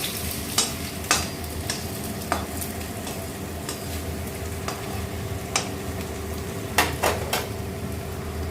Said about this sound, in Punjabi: ਨੂਰ ਨੇ ਲਸਣ ਨੂੰ ਕਰ ਲਿਆ ਲਾਲ ਹੁਣ ਪਾਏਗੀ ਟਮਾਟਰ ਤੇ ਪਿਆਜ਼